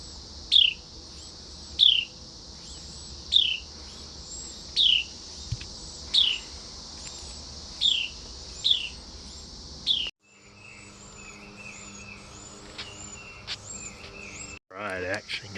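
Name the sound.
baby Carolina wrens chirping in a nest in a bike bag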